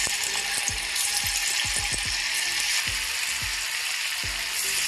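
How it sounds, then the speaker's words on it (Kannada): Potato kababs deep frying in hot oil, a steady dense sizzle running throughout with a series of sharp clicking pops and spatters scattered across it, close and fairly loud. "ಎಣ್ಣೆ ಕಾದ್ಮೇಲೆ ಒಂದೊಂದೇ ಬಿಡ್ತಾ ಇದ್ದೀನಿ"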